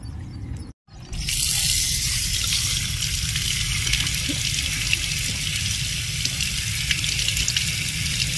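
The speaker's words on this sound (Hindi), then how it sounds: "पानी पीने का मज़ा ही कुछ और है टूंटी में से पानी पीने का" Steady, loud rush of tap water streaming from a faucet beside a toilet building, a continuous hiss that fills the clip after a brief gap near the start.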